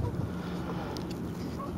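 A sailboat glides across a lake in light wind on a calm day, a steady low rush of water and breeze running evenly throughout with no clear talk.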